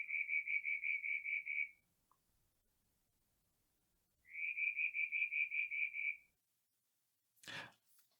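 A Litoria sibilus frog calls twice, each call a rapid series of about ten pulsed, whistly notes repeated in quick rhythm, clear and close against near silence, followed by a short noisy burst.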